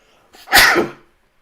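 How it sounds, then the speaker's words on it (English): A single sharp, loud sneeze close by, with a brief intake of breath just before it, then silence. "I sneeze."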